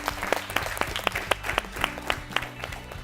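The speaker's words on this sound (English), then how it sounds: "Please clap for them." An audience at a national quiz final applauds a team, with a short burst of clapping in which individual sharp claps stand out against a quieter room.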